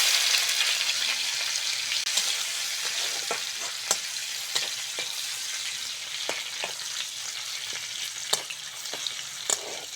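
Dry red chillies, curry leaves and crushed garlic sizzle in hot oil for a tempering, a steady close frying hiss broken by scattered sharp crackles and spatters.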